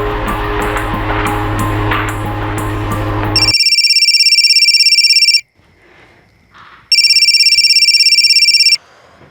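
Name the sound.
telephone ringing unanswered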